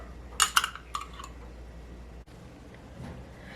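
A metal spoon clinks against a dish while scooping butter onto unbaked biscuits, a brief cluster of bright close taps and scrapes followed by quiet.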